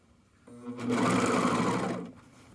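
A serger sewing machine stitching the back panel of a fanny pack runs in one loud, close burst of fast mechanical whirring that starts, holds steady for about a second, then winds down.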